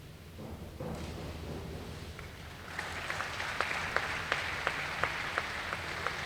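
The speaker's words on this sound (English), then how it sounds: "Please join me in a round of applause for Coach Wright, Coach Anderson" Applause from a crowd at a swim and diving event in an aquatic center, rising into steady, loud clapping with sharp individual claps standing out near the end.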